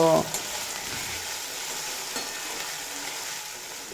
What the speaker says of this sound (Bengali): এবার এড করে দেব বেটে রাখা আদা কাঁচা লঙ্কা দিয়ে কাঁচা গন্ধ চলে যাওয়া পর্যন্ত ভেজে নেব